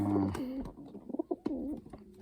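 Soft cooing from young sport racing pigeons, a few low rolling coos close by, with brief rustling and other bird sounds around them.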